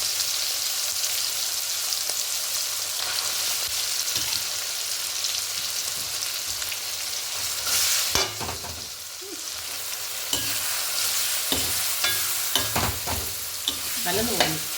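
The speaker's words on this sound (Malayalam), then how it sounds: "അപ്പോൾ ഞാൻ അതിലേക്ക് ചിക്കൻ ഇങ്ങനെ കുറച്ചിട്ട് ഇടാം." Chicken pieces for chicken chukka fry in a pan, a steady close sizzle with bursts of crackling and occasional clatters of stirring, with no talk.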